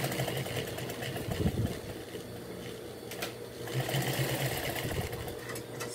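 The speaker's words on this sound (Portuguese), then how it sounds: "Então a gente vai costurar aqui" A sewing machine stitches a handbag with a steady mechanical whir and rapid needle chatter. It runs close and fairly loud, slows briefly in the middle, then speeds back up.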